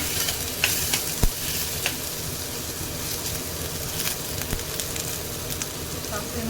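Finely chopped onion frying in well-heated oil over a medium flame for beetroot gojju: a dense, steady sizzle close by, with a few sharp stirring clicks scattered through it.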